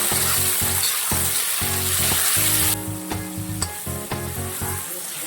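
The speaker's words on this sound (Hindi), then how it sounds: "टमाटर डालने के बाद अब मैं इसको फिर से भूनूंगी अच्छे से" Tomatoes sautéing in a hot pan for a rai leaf sabji give a loud, steady sizzle with repeated scrapes of stirring. Partway through, the hiss drops slightly and the stirring strokes sound more distinct.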